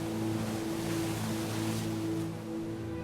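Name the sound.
gentle ocean waves in a video game demo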